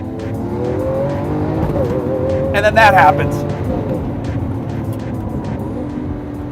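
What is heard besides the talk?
Lamborghini Aventador engine roaring on manual downshift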